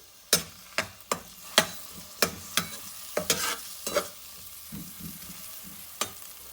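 White parts of green onions stir-frying in about two tablespoons of cooking oil for Singaporean rice. About a dozen crisp, rhythmic spatula strikes ring over a faint background sizzle, close and unaccompanied by speech.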